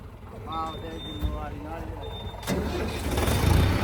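A voice speaks briefly, then a heavy tractor engine cranks and catches midway, settling into a loud, rumbling idle that grows stronger toward the end.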